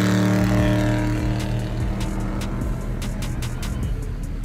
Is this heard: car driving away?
yes